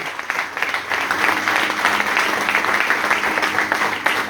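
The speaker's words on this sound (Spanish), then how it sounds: "si va a aplaudir, hágalo más fuerte, por favor" A church congregation applauds during a sermon, giving a sustained roar of many hands clapping that stays steady for several seconds, fairly loud and full.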